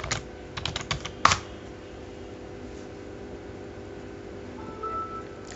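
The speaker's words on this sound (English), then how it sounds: "Now type the new password." A new password is typed on a computer keyboard: a short run of close key clicks ending in a sharper, louder keystroke like Enter, followed by quiet room tone and a faint hum.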